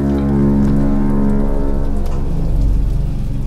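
Rain and thunder in the video game Bioshock Infinite: a loud, steady downpour with a deep rumbling undertone, heard close and continuous with no voices.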